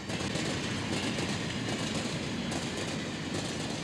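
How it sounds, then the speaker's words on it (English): A passenger train runs steadily along the rails, a continuous loud rumble with faint rhythmic wheel clatter throughout and no voices. "Winnie drives on the train all day and into the next night to Los Angeles"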